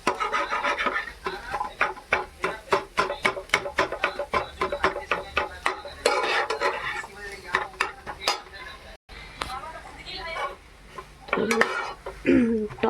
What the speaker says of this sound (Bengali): ডিমটা ঢেলে দিই, তো এখানে দিয়ে দিয়েছি ডিম, ডিমটা ভাজি